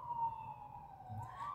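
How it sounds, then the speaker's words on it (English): Emergency vehicle sirens wail at night in Houston, a steady wavering tone held under a low rumble of traffic, fairly distant and continuous with no talking. "I don't think I've heard this many sirens since I lived in Hartford, Connecticut."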